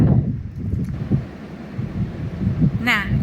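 Strong wind blowing outdoors at a house, a low rumbling buffet against the microphone with gusts rising and falling; someone speaks briefly over it.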